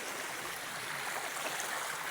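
A small creek with a run of little waterfalls flows nearby in a steady, broad rush of water that keeps going without a break.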